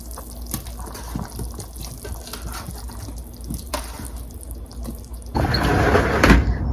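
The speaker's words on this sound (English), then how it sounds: "I need to wash the cinnamon and then star anise first" Tap water running at a kitchen sink while cinnamon sticks and star anise are rinsed, a steady splashing stream with small drips that swells louder and fuller near the end.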